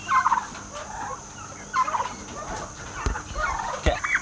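Turkeys on a homestead gobble repeatedly in bursts, several birds calling over one another at close range with short pauses between calls, and no talk over them.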